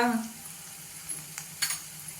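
Curry leaves, green chili and ginger-garlic paste sautéing in a pan for brinjal bharit, a soft sizzle with a few stirring scrapes, quiet and close, no talk.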